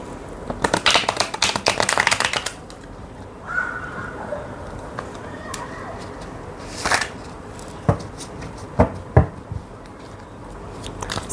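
Tarot cards are shuffled close by in a quick riffling flurry, followed by scattered soft flicks and taps as individual cards are handled, with no talking.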